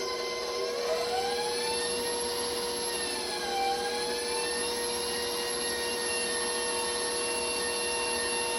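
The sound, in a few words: mixer mixing sweet potato pie filling with eggs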